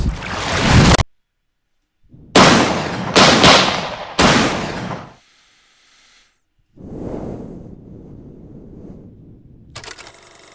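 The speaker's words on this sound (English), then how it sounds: "Soon after, the fourth gunshot will ring out." Gunshots in the video game The World Well: Blood of Caro: a loud single blast, then three sharp shots in quick succession with silences between, followed by a softer rumbling tail.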